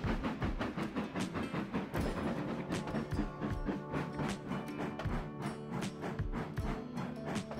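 A train runs along a freight line in the Trainz Simulator 2019 game, giving a continuous rolling rumble with rhythmic wheel clacks and knocks repeating steadily throughout, no voices.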